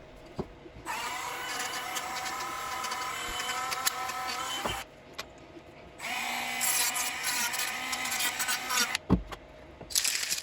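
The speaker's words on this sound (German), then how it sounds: "ein bisschen die Ecken abgeschlagen, ein bisschen Kratzer und Löcher reingemacht. Hauptsächlich mit dem Dremel." A Dremel rotary tool grinds and scratches 3D-printed helmet parts to weather them, whining in two long close bursts with short quiet gaps and small knocks between.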